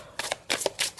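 Cards being handled and drawn from a deck of oracle cards: three or four quick, crisp papery swipes and flicks, close up, with no voice over them.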